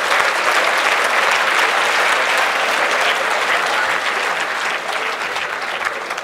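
Sustained audience applause from a panel discussion crowd, dense and steady clapping filling the room for several seconds and thinning slightly toward the end.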